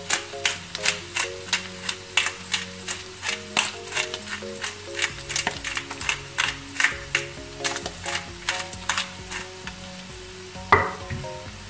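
Onions sautéing with crushed pepper and salt in a pan, a low sizzle under steady rhythmic clicking and tapping, with a faint kitchen hum and no talk.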